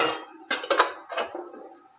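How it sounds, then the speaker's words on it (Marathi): A metal idli steamer stand is set upside down in a cooking pot, giving a few light metallic clinks and clatters close by, each fading quickly into quiet. "यावर जी आपली इडली करण्याची चाळणी असते ती अशी उलटी करूया"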